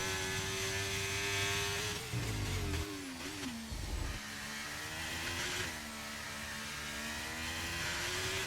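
Formula 1 car engine screaming at full throttle down the back straight of the China circuit in a racing video game, a steady high-pitched whine that dips briefly as gears shift mid-run, loud and continuous.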